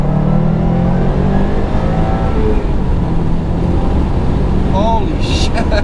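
A Subaru WRX STI in second gear pulls hard at full throttle, giving a loud, steady close-up engine roar inside the cabin while a person talks over it.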